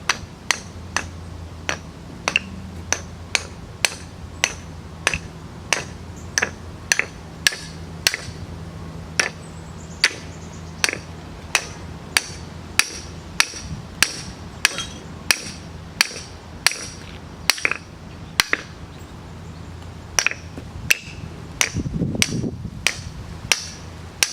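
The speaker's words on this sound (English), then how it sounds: "Just tap with the hammer." A hammer taps metal again and again on a 1969 Eldorado to loosen a part, in a steady, sharp rhythm, close and ringing slightly, with faint background hum between strikes.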